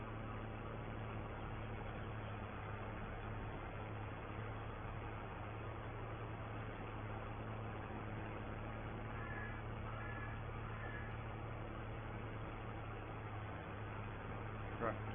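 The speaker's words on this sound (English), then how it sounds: "Tractor barking out." A farm tractor engine runs steadily throughout, a constant low droning hum with a strong steady tone and no changes in pitch, held at a moderate, even level with no breaks.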